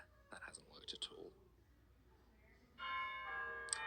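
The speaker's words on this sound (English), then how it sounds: "And that bell means it's Christmas." A bell rings out with a sustained, ringing tone in a Scratch platformer game, following a few seconds of faint whispering.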